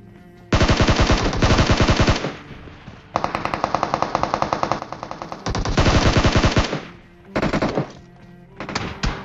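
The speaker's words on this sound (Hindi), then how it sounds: "पीछे से भाई इसके बंदे ने कवर फायर बहुत अच्छा दिया" Bursts of rapid automatic gunfire come from a battle royale video game, with cover fire in a ranked match. Long, loud, close volleys are split by short pauses, and a few clipped bursts come near the end.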